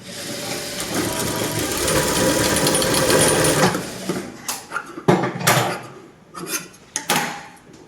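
A sewing machine stitches a princess cut blouse in a steady close run for about four seconds, then gives way to scattered handling knocks and clatters of fabric and tools.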